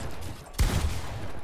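Gunfire in a one-on-one shooting video game fight: a single sharp, punchy shot followed by a brief rattle, standing out from a steady background of game sound.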